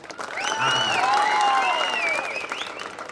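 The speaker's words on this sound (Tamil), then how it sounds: "ஆண்கள் நல்ல உற்சாகமான கரகோஷம்" Men in a comedy show audience give enthusiastic applause, a full, steady wash of clapping with some cheering and raised voices mixed in, loud and continuous.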